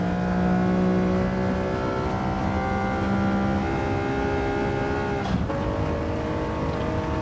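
A resto-mod car's engine drones steadily at high revs on a track as the driver trail brakes into turn 1, tone shifting as revs drop near the end, loud and close with no talk.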